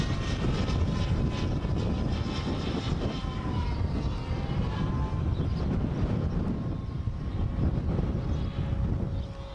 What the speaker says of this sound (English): that noise you can hear is helicopter.